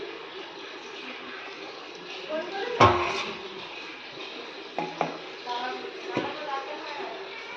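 A lid goes onto a pot of simmering meat in a home kitchen, giving one sharp metallic clank followed by a few lighter knocks and clatters over a low background hum, while a voice talks.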